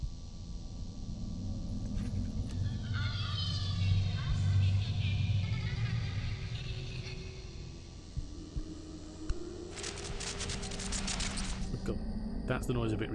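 Cassette tape rewinds in The Lost Crown video game: a low, continuous whirring rumble with a rising mechanical whine and faint clicks, under quiet background noise.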